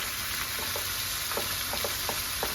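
Tomato paste sizzling in a hot pan beside braised short ribs, a dense steady frying hiss throughout, close and loud, with a few soft stirring scrapes dotted through it.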